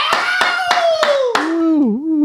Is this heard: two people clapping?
yes